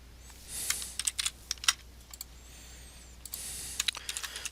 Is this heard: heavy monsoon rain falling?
no